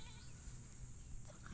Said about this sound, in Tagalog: Kambing ng kapitbahay.